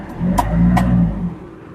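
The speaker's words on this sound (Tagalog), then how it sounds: "Umandar na ang ating sasakyan." A car engine that had sat unused for a long time catches and runs, a loud low rumble that swells briefly as it revs, then settles into a steady idle, with a couple of sharp clicks near the start.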